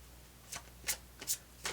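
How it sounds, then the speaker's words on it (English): A small deck of twelve tarot cards being shuffled, giving a few soft, separate riffling bursts spaced irregularly over a quiet low hum, close up with no speech. "There's only 12, so it's kind of hard to shuffle."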